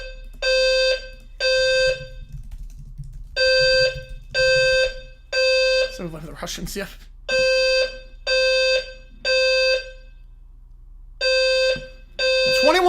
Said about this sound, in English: Again, apologies about the fire alarm.